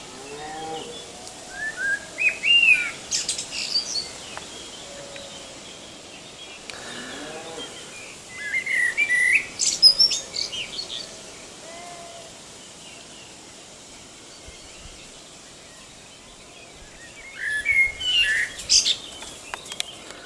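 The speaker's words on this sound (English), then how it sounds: "And up there's a beautiful blackbird singing on a little branch." A blackbird sings from a small branch outdoors, giving three separate bursts of fluting, warbling phrases spread apart with quiet gaps between them, heard from a moderate distance against a soft background.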